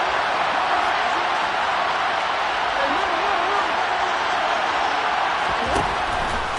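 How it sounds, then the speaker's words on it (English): A loud, steady roar of a football stadium crowd inside the Dome during a first-quarter goal-line play, with commentators talking over it. "The crowd here in the Dome making things difficult"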